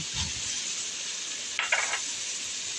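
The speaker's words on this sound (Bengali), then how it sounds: "মশলাটাকে এবার তেলের সাথে ভেজে নেব যেন কাঁচা গন্ধটা না থাকে" Ginger and garlic paste fries in hot oil, a steady soft sizzle with a brief burst of stirring or spattering partway through, fairly faint and without voices.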